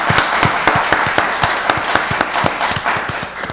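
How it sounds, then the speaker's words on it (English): Applause from a crowd at a Rockdale County Board of Commissioners meeting, a steady burst of many hands clapping indoors, fairly close and sustained throughout. "let's give all this a round of applause"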